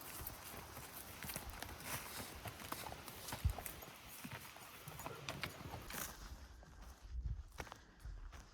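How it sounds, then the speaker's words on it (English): A horse is led away on a mountain trail during an archery elk hunt, its hooves making faint, irregular clip-clopping steps amid rustling outdoor noise. "Just gonna take my horse back to camp for me."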